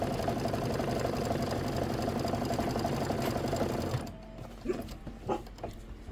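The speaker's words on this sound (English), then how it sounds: "So this is about 4 minutes of stitching." An embroidery sewing machine stitches a Kimberbell appliqué quilt block with a fast, steady mechanical whir for about four seconds, then stops, leaving a few quiet clicks and light handling noises.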